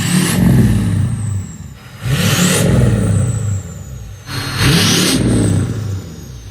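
A 6.0 diesel truck fitted with a massive elbow exhaust tip revs three times in succession, each loud, deep rumbling burst rising and then falling away with short pauses between.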